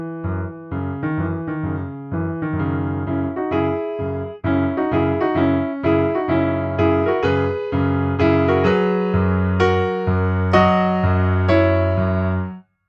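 Piano plays the intro of a song, starting soft and building steadily louder, with a sudden lift midway and ending on strong, full chords.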